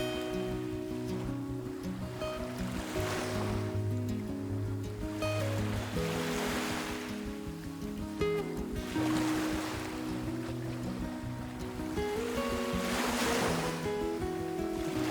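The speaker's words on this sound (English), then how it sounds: "perched on a granite rock formation surrounded by crashing waves." Atlantic waves crash against granite rocks by a Nova Scotia lighthouse, big surges rolling in roughly every three to four seconds, each breaking into a broad roaring wash, with a steady wind rumble underneath.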